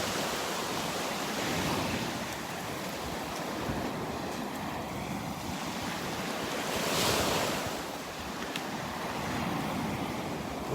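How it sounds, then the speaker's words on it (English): Ocean surf at Delnor-Wiggins beach rolls in as a continuous broad wash of breaking waves with wind buffeting the microphone, swelling briefly around the middle, with no one speaking. "look at those waves crashing under the boardwalk up there."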